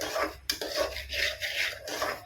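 Semolina (rava) roasting in ghee is stirred in a pan, with a steady, gritty scraping that comes in rhythmic strokes and close, dry rasps, and no voices.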